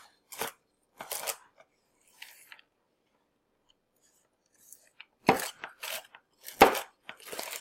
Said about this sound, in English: We're just going to coarsely chop them up here